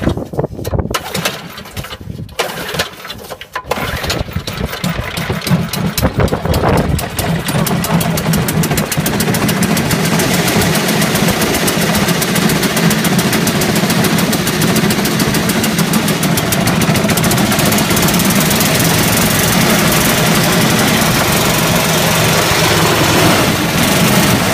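Lawnmaster 500 petrol lawn mower, dry after six months unused, with choke and throttle on: a few pull-cord tugs, then the engine catches and runs loud and steady close by, alone without talk.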